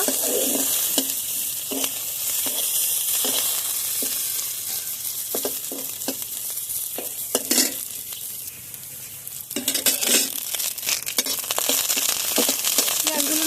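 Chopped onion fries in oil for cauliflower bhorta, a loud, close sizzle broken by regular rhythmic scrapes and stirs of a spatula against the pan.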